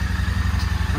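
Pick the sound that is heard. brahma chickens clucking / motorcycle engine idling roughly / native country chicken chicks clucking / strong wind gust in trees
motorcycle engine idling roughly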